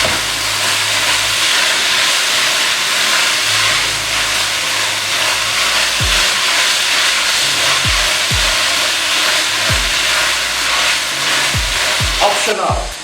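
Chicken stir-frying with oyster sauce, fish sauce and black soy sauce over raised heat gives a steady loud sizzle and hiss, with a spatula scraping and clanking against the pan every second or so.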